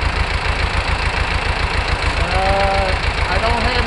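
A Long 900 tractor's diesel engine runs at a steady idle with a fast, even low-pitched knocking throb, close and loud, while someone talks over it.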